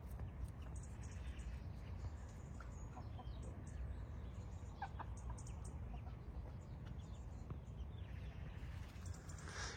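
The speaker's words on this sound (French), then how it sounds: "Donc la maman avec tous les poussins est là." Soft, continuous clucking comes from a hen with her chicks in a farmyard, faint and steady against a low background hum, with occasional small peeps and no talking.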